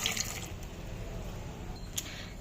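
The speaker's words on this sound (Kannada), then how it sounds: "ಈ ಕುಕ್ಕರ್ಗೆ ನಾವು ಇವಾಗ ನೀರು ಹಾಕೋಬೇಕು" Water is poured into a pressure cooker holding raw mangoes, a close, continuous gurgling stream with a couple of brief clinks, no talking.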